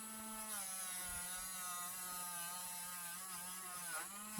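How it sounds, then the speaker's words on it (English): Cordless rotary tool giving a fine front polish to a twisted copper wire Celtic or Viking style brooch, a steady, fairly quiet high whine holding constant throughout with a slight dip in pitch near the end. "You also notice that the cordless rotary tool is a lot quieter."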